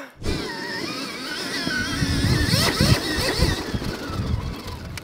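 Small motocross motorcycle ridden hard on full throttle, its engine note wavering and climbing in rapid revving sweeps, close and loud, with a rougher burst of mechanical clatter midway.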